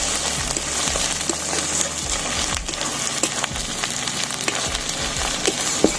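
Tomato masala with ginger and garlic, made for a duck curry, fries loudly in a pan with a dense, continuous sizzle and repeated spatula strokes scraping through it.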